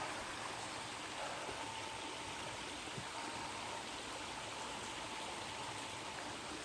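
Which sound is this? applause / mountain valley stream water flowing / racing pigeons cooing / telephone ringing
mountain valley stream water flowing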